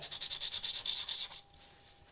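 A plastic Spider-Man mask lens shell is sanded by hand, with steady rhythmic back-and-forth rasping strokes, close and fairly loud, easing off into quieter light rubbing near the end.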